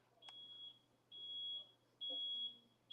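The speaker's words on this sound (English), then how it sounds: "Downstairs fire alarm's going off." Three sustained electronic beeps from a smoke alarm going off downstairs in a house, each lasting about half a second, evenly spaced and moderately loud, with a low steady hum underneath and faint voices between them.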